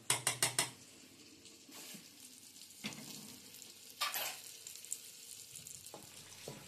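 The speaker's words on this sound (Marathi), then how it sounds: "5 बांगडे फ्राय करायला टाकलेत तव्यावर." Bangda mackerel coated in besan fries on a tawa, a soft sizzle under a few sharp clacks at the start and scattered scraping and knocking sounds, fairly quiet and close.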